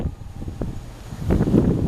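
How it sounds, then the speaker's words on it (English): Gusty outdoor wind buffets the microphone in a low, rumbling roar that swells louder in the second half, with no talk over it. "it's windy"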